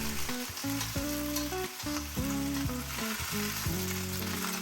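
Small bok choy is stir-fried over high heat in a wok, giving a loud, continuous sizzle with rhythmic tossing and stirring scrapes and no voices.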